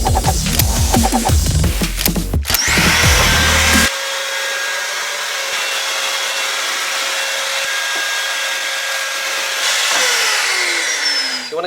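A Titan vacuum cleaner sucks rusty dust out of an old narrowboat's bilge, opening with loud clattering and rattling knocks, then settling into a steady, close, whining roar that holds for several seconds.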